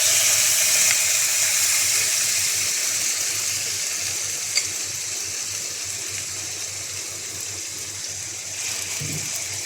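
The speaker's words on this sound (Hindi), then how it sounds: "चिकन को 1 से 2 मिनट भून लेंगे।" Marinated chicken frying in hot oil over a medium flame, a continuous close sizzle and bubbling hiss that eases slightly in level, with one small clink partway through.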